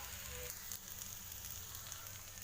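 Cumin seeds sizzle steadily in hot oil in a pan, a soft, even crackling hiss with no voices.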